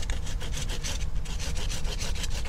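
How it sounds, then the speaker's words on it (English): A pruning saw cuts through a forsythia branch outdoors with fast, steady back-and-forth rasping strokes, close and continuous, with no talk. "So using your pruning saw,"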